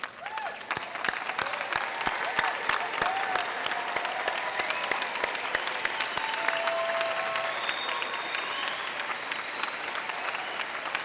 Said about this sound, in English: Let us recognize these accomplished graduates at all levels by standing and offering them a warm round of applause.